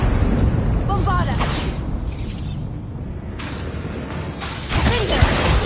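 Bombarda blast spell bursts in Hogwarts Legacy, a loud booming impact with crackling debris that comes in two or three surges over a dense rumbling bed, while a voice calls out spell names.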